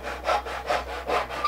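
A hand saw cuts wood for a half-lap joint on a monitor stand, four even rasping push-pull strokes close by, with no talking.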